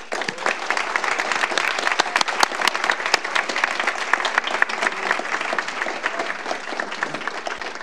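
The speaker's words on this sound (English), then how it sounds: "Let's give them a round of applause." Applause honoring music students at a school board of education meeting, a steady, crisp crowd clapping throughout, with individual sharp claps standing out in a continuous patter and no talking.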